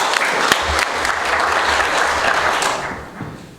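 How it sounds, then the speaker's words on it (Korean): Audience at a public debate on a municipal waste incinerator in Goyang applauds steadily, a dense roomful of clapping that holds loud for about three seconds before tapering off, with no talk over it. "큰 박수 부탁드립니다"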